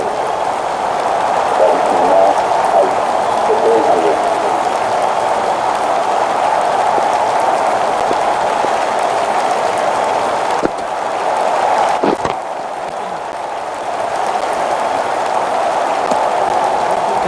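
Broad, steady roar of a cricket crowd applauding and cheering after a diving one-handed catch in an India versus Australia Test match, a dense continuous wash of distant clapping that dips briefly near the end.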